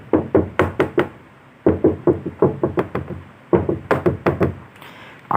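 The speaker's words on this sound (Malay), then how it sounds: "pintu bilik tersebut diketuk-ketuk dari dalam" Someone knocks on a door from inside a room, three bursts of rapid knocks, four to six each, separated by short pauses, close and fairly loud.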